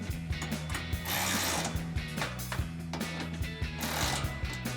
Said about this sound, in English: We're going to be using a 13mm socket and a ratchet.